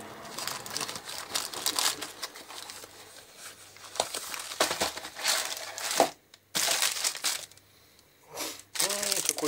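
Plastic wrapping on an ice lolly is crinkled and torn open at close range, in bursts of crackling and rustling with brief pauses between, while a person speaks quietly.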